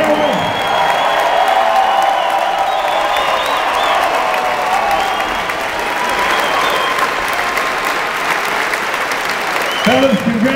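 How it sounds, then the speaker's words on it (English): A loud crowd of football players and supporters applauds and cheers after the team receives a bowl bid, continuous clapping mixed with whoops and shouts, close and steady throughout, with a voice breaking in near the end. "Let's give them a big round of applause."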